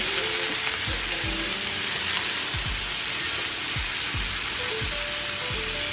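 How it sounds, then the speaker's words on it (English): Onions and potatoes fry loudly in a cast iron skillet, giving a dense, steady crackling sizzle with quick spatters throughout. "Allow those onions to get to the bottom so they can start cooking."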